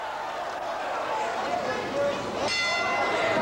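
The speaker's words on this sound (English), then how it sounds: "There's the bell." Bell ringing in a kickboxing match, a clear metallic tone ringing out over crowd noise and a commentator's voice, with a sharper strike about halfway through.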